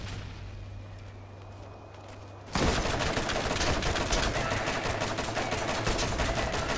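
Gunfire in the video game Borderlands: after a quieter stretch, a dense, continuous burst of rapid shots starts suddenly and stays loud and crackling to the end.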